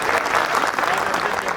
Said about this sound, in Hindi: भाई एक बार जोरदार तालियां